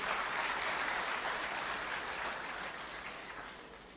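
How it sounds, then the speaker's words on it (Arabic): Audience clapping in a hall, a dense, even wash of applause that holds steady for a few seconds before tapering slightly, with no voices. "صفقوا له، شجعوه ما شاء الله."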